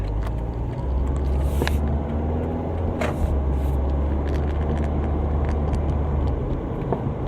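Cars drive along a road in the early hours around 3 a.m., a continuous low rumble of engine and tyre noise with a few brief passing bursts, heard steadily from inside a moving vehicle.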